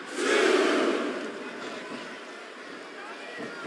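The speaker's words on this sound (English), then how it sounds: "the crowd has come alive tonight with a chant directed at the superstars in the ring" An arena crowd in the WWE SmackDown vs. Raw 2007 wrestling game roars and chants, a loud swell that eases into a sustained rumble of voices.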